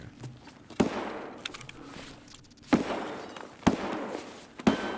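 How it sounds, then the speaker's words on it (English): Gunfire from the player's own weapon in Escape from Tarkov: four sharp, spaced single reports, loud and close, each with a short decaying tail over a low background rumble. "That's me shooting."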